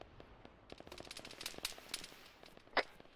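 Gunfire in the military video game Arma 3, heard as a faint burst of rapid automatic shots and scattered distant cracks with one louder report near the end, with no talking.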